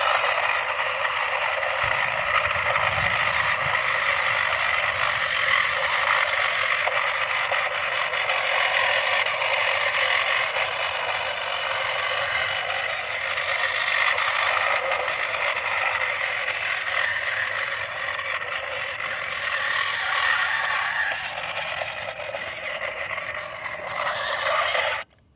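A Playskool SST Bigfoot 4x4 toy truck in four-wheel drive runs through tall grass, giving a steady, close scraping and whirring mechanical rustle that holds for about twenty-five seconds before cutting off.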